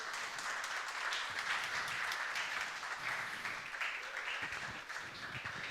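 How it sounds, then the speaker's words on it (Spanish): A church congregation gives steady, dense applause for nearly six seconds, a continuous wash of many hands clapping throughout a sanctuary with no pause or voices. "Dale un aplauso al Señor, por favor."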